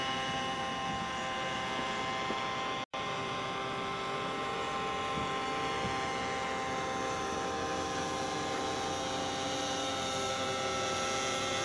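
A Tiger 60 low-wing radio-controlled trainer airplane drones steadily in flight, its glow engine holding a constant buzzing whine with strong harmonics, loud and close throughout apart from a momentary dropout near three seconds.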